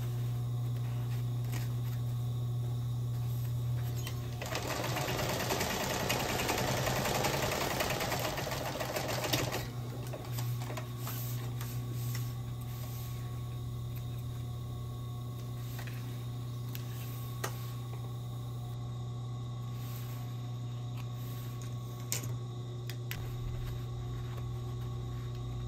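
A sewing machine stitches a small zippered pouch with bonded nylon thread. The rapid mechanical whir swells loud for a few seconds, then drops to faint ticking and clicks over a steady hum, with no speech.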